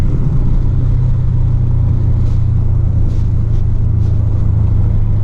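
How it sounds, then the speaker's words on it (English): A 2017 Chevrolet Camaro SS accelerates hard in second gear, a loud continuous low engine roar and rumble filling the cabin from inside the car, without breaks or talk. "second gear pull, bro."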